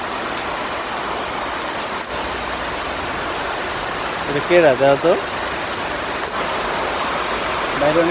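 Heavy rain falls outside as a steady, dense hiss that fills the whole clip, with a voice speaking briefly over it about midway and again near the end.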